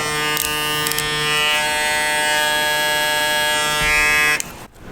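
A 360 Jeezy hair clipper running, a loud steady electric buzz with a strong harmonic hum sustained for over four seconds before it cuts off abruptly.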